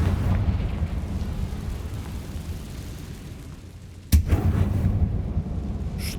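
Confringo blast spell in Hogwarts Legacy, cast against spiders: a low rumbling roar that swells and fades, then a sharp, sudden blast followed by more deep rumbling.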